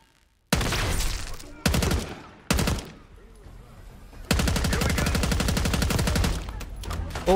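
Automatic gunfire in Call of Duty Black Ops 6, loud close bursts: three short volleys followed by a long sustained stream of rapid shots.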